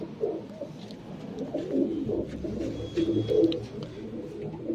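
Pigeons cooing repeatedly in low, throaty murmurs, several birds overlapping at close range with a steady background bustle.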